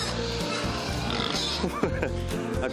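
Pigs on a farm grunt and oink repeatedly in short, overlapping bursts, fairly close and continuous over a background of animal noise, with no one speaking.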